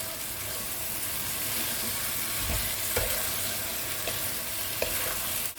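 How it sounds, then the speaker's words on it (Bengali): Chicken pieces fry and are stirred in a pan while being browned for a chicken salan curry, a constant close sizzle with occasional scraping knocks of the spoon and no voices. "মাংসটা দিয়ে ভালো করে কষবো"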